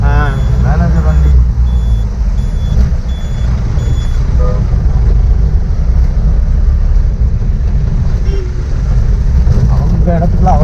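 A manager's jeep on a Kolukkumalai hill-station jeep safari drives past, its engine rumbling loud and close throughout with reversing beeps and voices mixed in.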